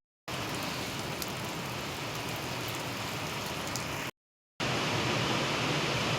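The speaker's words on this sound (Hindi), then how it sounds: "दोस्तों फिर से बारिश शुरू हो गई है।" Heavy rain pours down outside in a steady, dense hiss with no voices. It cuts out briefly, then resumes at the same strength.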